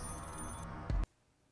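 A telephone rings loudly and continuously, its bright electronic tone cut off abruptly partway through and followed by near silence.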